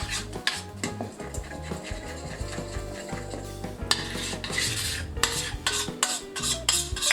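Chocolate soufflé batter being whisked in a bowl, a busy rhythmic scraping and tapping of the whisk against the sides, close and continuous with no talking.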